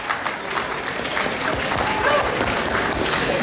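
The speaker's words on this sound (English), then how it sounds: "And can we give them all a round of applause?" Dinner audience at a newcomer-support community event applauding the board members: a steady, moderately loud wash of many hands clapping, filling the room without a break.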